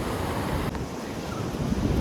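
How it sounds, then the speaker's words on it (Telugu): Strong waves surge and wash onto a beach in Puducherry, a loud continuous roar with heavy wind buffeting the microphone and no voices. "అలలు మాత్రం చాలా గట్టిగా వస్తున్నాయి."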